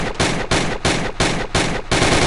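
Gunfire from a weapon set to semi-auto in a VR video game, with five loud, evenly spaced shots about half a second apart, each followed by a sustained echoing tail, close and without speech.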